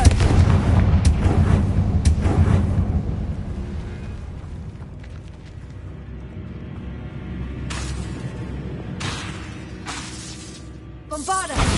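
Confringo fire-blast spell explosions in the Hogwarts Legacy video game: several sharp booming bursts at the start and again near the end, over a low rumbling game background with a faint voice.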